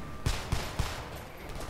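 Gunfire from a weapon in the shooter Homefront, three sharp close shots in quick succession over a steady background hum.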